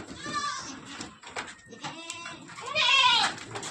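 Goats bleat close by in several wavering cries in rural Konkan, the loudest and longest coming near the end.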